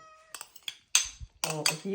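A cat meows in a home kitchen during salad preparation, short high calls among faint clinks of dishes, with someone speaking nearby.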